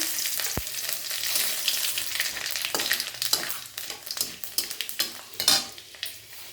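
Bay leaf, radhuni and panch phoron spices hitting hot oil in a wok, a loud bright sizzle that bursts up at the start, then crackles and spits with scattered stirring clinks, close and alone.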